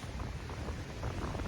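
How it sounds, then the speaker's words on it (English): Strong wind buffets the microphone on a sunny beach at Padre Island in South Texas, a dense, low rumbling roar that stays steady throughout the short moment. "As you can tell, it's super windy,"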